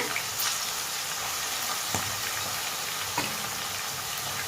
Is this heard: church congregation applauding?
no